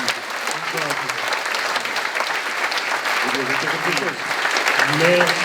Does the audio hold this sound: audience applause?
yes